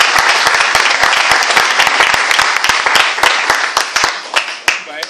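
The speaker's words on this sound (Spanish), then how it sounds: "un aplauso para ellos" Loud, dense audience applause at a live music performance, rapid clapping throughout, a crowd clapping together without pause.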